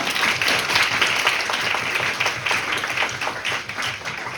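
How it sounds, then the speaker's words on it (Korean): Closing-ceremony audience at a student Model United Nations conference claps for the organizing committee, a full, sustained round of applause filling the room. "우리 이 위원회도 고생 많았으니까 박수 한번 부탁드리겠습니다"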